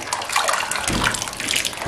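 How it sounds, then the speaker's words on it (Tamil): Cooked lentils and water pour into a pot of boiling eggplant sambar, a loud close gush and splash with a heavier slosh midway, no voices. "இப்போ பருப்பை வந்து நம்ம இந்த சாம்பாரில் ஆட் பண்ணிடலாம் கொதிச்சுட்டு இருக்கக்கூடிய காய்கறியில் ஆட் பண்ணிடுவோம்"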